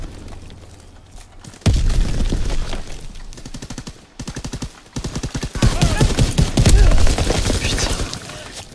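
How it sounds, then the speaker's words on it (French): Rapid bursts of gunfire and heavy booming grenade explosions fill a Call of Duty WW2 multiplayer battle, loud and dense, with firing rattling in quick strings and blasts thudding close. "Le mec il balance des grenades forcément."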